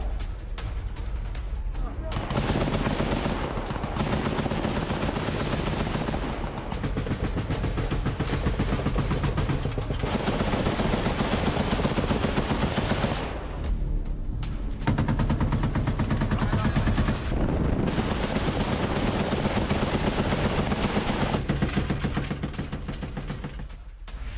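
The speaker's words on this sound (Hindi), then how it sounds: "रूसी सेना और यूक्रेनी जवानों में आमने सामने की फायरिंग यहां पर डोनबास में हो रही है" Combat between Russian and Ukrainian forces in Donbas: dense, continuous bursts of gunfire and heavy shooting fill the scene loudly, with a voice speaking over much of it.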